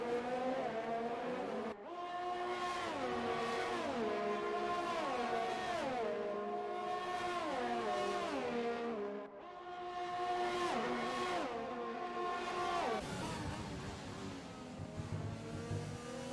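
Race cars in a Canadian Grand Prix video game scream past in loud, continuous engine whine, the pitch rising and falling sharply through gear shifts and corners, with several cars overlapping near and far and no talk.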